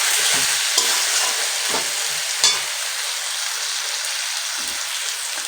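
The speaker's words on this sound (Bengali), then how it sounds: "তো মাটনটা একটু হালকা করে একটু ভেজে নিচ্ছি, হালকা হালকা করে" Mutton pieces are lightly fried in a pan for a Bengali mutton kosha, giving a continuous bright sizzle broken by occasional scrapes and knocks of a spoon stirring close by.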